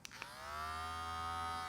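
A couple of soft clicks, then an electric hair clipper set to the closed position buzzes steadily with a smooth, even hum, close and fairly quiet.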